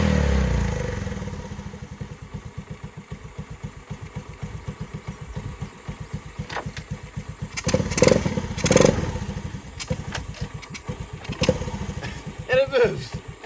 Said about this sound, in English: Zero adjustment and it idles. I love these old Hondas.